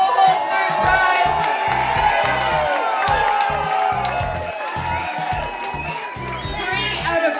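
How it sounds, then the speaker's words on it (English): An audience at a battle of the bands finals cheers, whoops and claps for a third-prize band, a loud continuous crowd roar with shouting voices layered throughout. "Round of applause, ladies and gentlemen, for the Global Third Prize."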